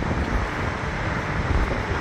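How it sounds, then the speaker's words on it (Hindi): Outdoors in Abu Dhabi, wind gusts against the microphone as a loud, steady, broadband rumble with no voices. "हवा चल रही है"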